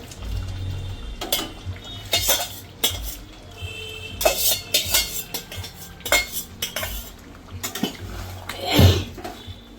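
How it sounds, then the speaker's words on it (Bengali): Cauliflower being tossed into a pan of cooked spices for a dry roast, with sharp metal spoon scrapes and clatters against the pan in irregular bursts and a faint sizzle underneath, close up and with no talking. "তো আমি ফুলকপিটা দিয়ে দিলাম।"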